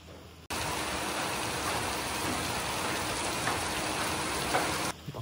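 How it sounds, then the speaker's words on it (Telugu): Heavy rain pours steadily near Sinquerim beach in Goa, a dense unbroken hiss that starts abruptly and stays loud before cutting off near the end. "వర్షం మాత్రం హెవీగా పడుతుంది."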